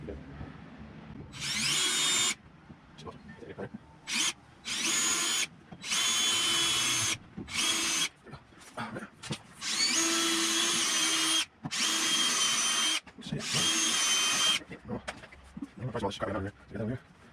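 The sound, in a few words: power drill drilling holes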